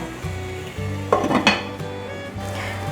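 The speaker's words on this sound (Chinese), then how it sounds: "我大概每1分钟会打开盖子，拌炒一下，再盖上锅盖。" A metal pot lid lifts with clinks while pumpkin is stirred and turned in a covered pan over low heat, brief clatter and scraping in the middle, faint sizzle, no talk.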